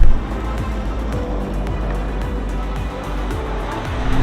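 An Audi quattro pulls forward loudly, its synthetic engine tones sweeping upward again and again over a heavy road roar.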